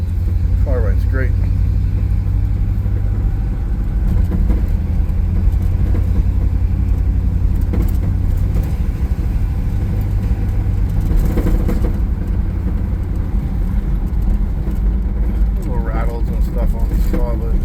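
A 1955 Chevrolet Bel Air two-door hardtop driving along, its steady low engine rumble constant throughout with brief swells, while someone talks over it almost continuously.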